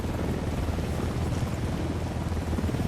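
Helicopter rotor and engine drone in the video game Ghost Recon Wildlands, a loud, steady broadband roar filling the whole moment without speech.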